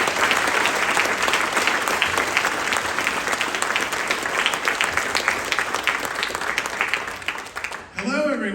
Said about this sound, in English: to hear from Tony Baxter and Jason Sorrell, so give them a round of applause.